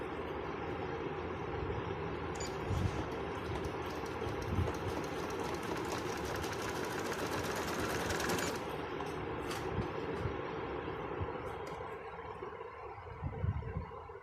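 A Janome 8200 sewing machine stitches fabric in a steady, fast mechanical whir, running continuously for several seconds and then slowing, fairly quiet, with no talking.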